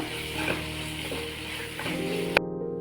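Sautéed mixture in a pan being stirred after salt is added: a continuous close sizzle with rhythmic spoon scrapes and one sharp clink of metal near the end before it cuts off.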